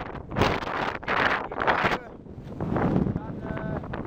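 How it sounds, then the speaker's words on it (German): Storm wind gusts against a tent on a pilgrimage route in loud, buffeting bursts, with flapping and rumbling mixed with microphone wind noise, then eases. "ich gehe wieder rein und hoffe, dass das gleich mal ein Ende hat mit dem Wind."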